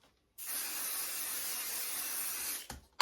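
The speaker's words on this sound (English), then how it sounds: "this is just 505 temporary adhesive spray" A can of 505 temporary adhesive spray sprays in one long steady hiss of a couple of seconds, close and even, ending with a few clicks.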